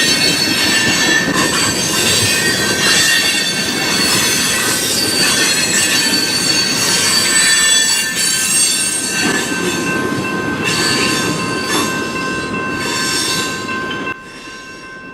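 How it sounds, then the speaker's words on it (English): A departing train rolls along with metal wheels squealing loudly and persistently, steady rumble beneath, gradually easing toward the end. "After seeing the train depart here"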